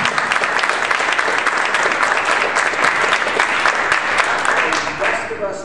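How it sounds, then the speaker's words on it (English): A luncheon audience applauds steadily for several seconds, a dense even wash of clapping that tapers slightly toward the end. "could I ask the rest of us to applaud them for their time?"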